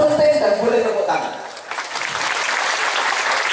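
Audience applause at a lively religious lecture held at a police headquarters in Madiun, Indonesia, starting under the preacher's voice and swelling into steady, broad clapping that fills the rest of the moment.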